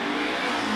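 A late-model BMW launches off the line at a street drag race, its engine roaring loud and steady as it accelerates hard over a short burst.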